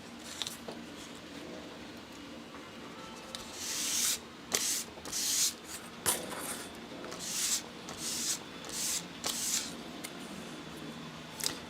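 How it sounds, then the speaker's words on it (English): Several short hissing bursts of spray paint from a rattle can, laid thinly onto N scale model buildings, arrive in quick irregular puffs over a quiet room background. "I intentionally chose a rattle can to do all of this"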